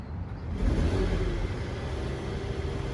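A 2021 Mercedes-AMG CLS 53 cold-starts with a loud, deep rumble that swells and then holds as a steady, close idle for several seconds.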